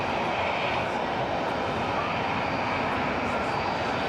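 An aircraft engine roars steadily and loudly at Cologne Bonn Airport, a broad continuous rumble from a passing plane that holds at an even level throughout.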